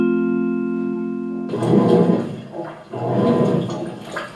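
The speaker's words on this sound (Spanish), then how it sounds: "Así suena una lavadora" A household washing machine sloshes and churns water in two rushing surges, close and moderately loud, after a brief steady tone.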